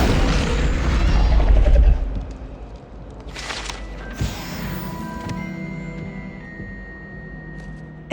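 Incendio fire spell cast in Hogwarts Legacy: a loud whooshing burst of flame fades over about two seconds, then a short impact thud and lingering crackle under quiet game ambience.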